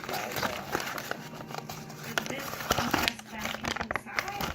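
A balled-up paper note being handled up close, giving a steady run of crinkling and crumpling rustles with sharper crackles scattered throughout.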